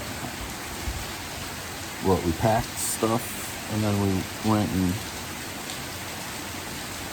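Steady rain falls as a constant hiss throughout, with a person talking briefly over it partway through.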